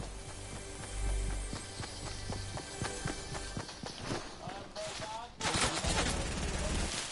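Gunfire in the Fortnite battle royale video game: a steady run of evenly spaced shots, then a denser, noisier stretch of firing and movement sounds, fairly loud throughout.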